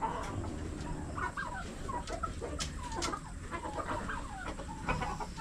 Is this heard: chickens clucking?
yes